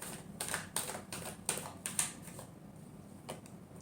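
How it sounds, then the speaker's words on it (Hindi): A deck of tarot cards is shuffled by hand, giving a quiet series of crisp, papery slaps and flicks in an uneven rhythm that trails off toward the end. "last shuffle"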